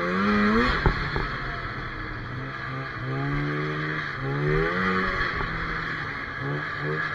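A Polaris Indy snowmobile engine runs while being ridden around a house, its close, steady drone repeatedly rising and falling in pitch as the throttle comes on and eases off, with no talking.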